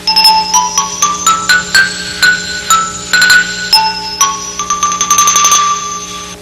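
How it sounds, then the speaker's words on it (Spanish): Bright, bell-like struck notes from a small wooden xylophone played with two wooden-tipped mallets ring out one after another in a quick melodic run, each with a sharp attack and short ring, ending in rapid repeated strikes. "Esta pequeña marimba de madera se llama xilófono o xilófono."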